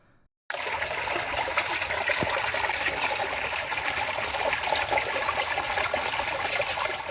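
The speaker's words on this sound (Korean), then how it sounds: "졸졸졸졸 물소리죠" Water trickling steadily in a small neighbourhood stream along the Bukhansan trail, a continuous close babbling flow that starts abruptly after a brief quiet moment.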